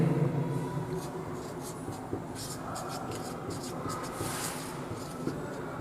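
Pen or pencil scratching steadily on paper during a children's science lesson on microorganisms, a faint continuous scribbling with soft murmuring in the background.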